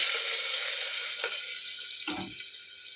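Onions land in a hot pan and set off a loud, close, bright sizzle that holds steady for about three seconds and softens a little at the end.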